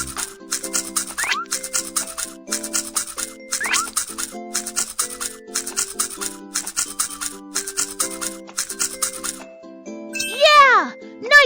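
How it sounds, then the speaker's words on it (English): Cartoon toothbrush scrubbing an animal's teeth in a rhythmic series of bristly strokes over a bright music bed, ending in playful chirpy effects, with a voice speaking. "Let's brush your teeth."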